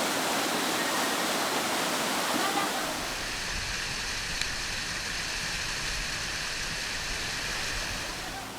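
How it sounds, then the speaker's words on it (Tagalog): Steady roaring rush of water, a river flowing with a strong current swollen by heavy rain, loud and continuous, dense broadband noise throughout with no pauses. "Medyo malakas na yung current kasi bumuhos yung malakas na ulan kanina lamang."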